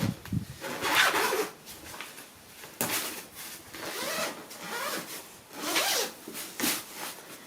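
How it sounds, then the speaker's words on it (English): Close, repeated rasping of a zipper being pulled back and forth along the bassinet fabric of a Cybex Gazelle S stroller, in uneven strokes with no talking. "Inside the bassinet are 2 zippers."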